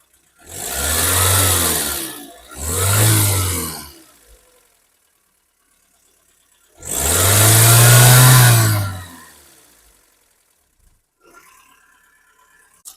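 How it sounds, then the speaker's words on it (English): A car engine revs hard in three loud, close bursts, with short quiet gaps between them and a faint rattle at the end. "So now we're gonna turn on our engine"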